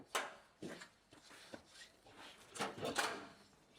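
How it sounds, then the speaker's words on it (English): A drawer slides out from under a campervan bed base with several short scraping and thudding bumps, close by and fairly quiet. "So it's got the full slide out base with some of the bike adapters as well"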